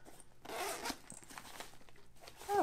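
A zipper on a small extra pocket of a Brevite Jumper backpack is drawn open in several short, close scratchy pulls, with a brief voice near the end.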